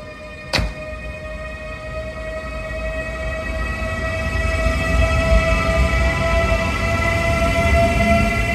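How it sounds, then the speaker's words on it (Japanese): A sharp metallic clack, then a steady whining tone from an Austrian Taurus electric locomotive hauling four coaches as a low rumble slowly builds while it departs a Czech station. "今ただいま出発していく列車"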